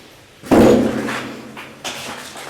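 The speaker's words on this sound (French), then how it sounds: "Faites claquer les portes." A single loud slam at the start, a door banging shut in an old sanatorium, followed by a fading rumble and a second softer knock near the end.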